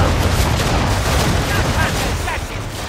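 Heavy ship cannon fire in Assassin's Creed 3 booms in a rapid barrage, deep blasts overlapping with rumbling impacts, loud and close, fading slightly at the end.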